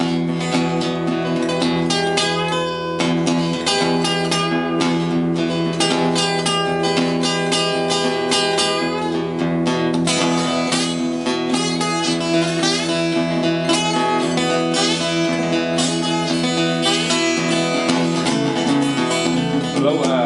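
A harmonica wails in wavering, whistle-like chords, imitating a local freight train whistle, with steady dense sustained tones throughout.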